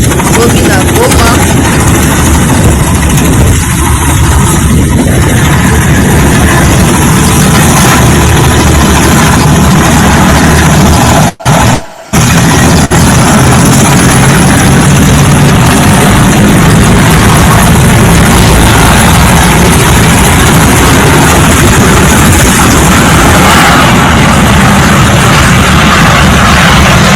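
Helicopters departing from Goma, a loud continuous rotor and engine roar that fills the whole stretch, breaking off briefly near the middle, with a voice speaking over it.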